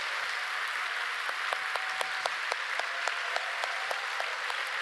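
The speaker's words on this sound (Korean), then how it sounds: "중고등부를 위해서 박수 한번 치겠습니다" A church congregation applauds for the youth group during a Friday night service, a continuous wash of clapping with a few sharper individual claps standing out near the front.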